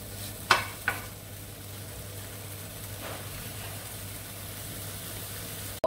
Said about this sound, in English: We'll fry it until it gets really nice, brown and crispy. Sizzling away in the pan now.